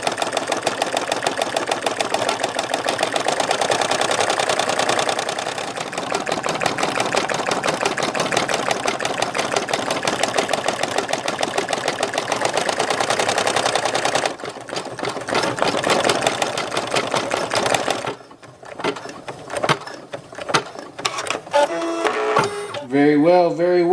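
A Brother PE770 embroidery machine stitches out a leaf design on a patch with a steady, rapid mechanical rattle close by. The rhythm shifts partway through, and the stitching turns choppier and more intermittent near the end.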